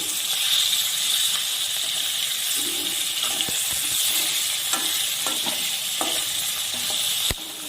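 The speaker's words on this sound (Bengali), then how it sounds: "এইভাবে দু পিস ভালো করে লাল করে ভেজে তুলে নেব।" Pieces of tengra fish sizzle and crackle in frying oil, a continuous close hiss broken by a few light clinks and stirring knocks, with one sharp knock near the end.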